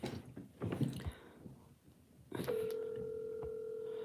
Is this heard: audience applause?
no